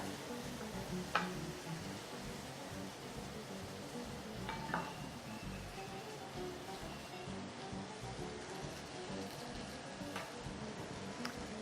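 Onion jam with sugar stirred in a pan, a quiet continuous bubbling sizzle with a few light ticks of the spoon against the pan.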